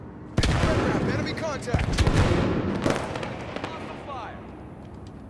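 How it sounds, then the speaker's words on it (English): Grenade thrown and bursting in the Halo 5 Breakout multiplayer mode, amid a sharp explosive crack with scattered gunfire-like bangs and battle noise, while an in-game announcer voice speaks over it. "Throwing a grenade."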